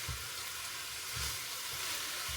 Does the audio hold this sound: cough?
no